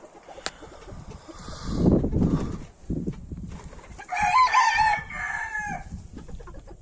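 A rooster crows loudly nearby, with clucking and other fowl sounds around it, no talking.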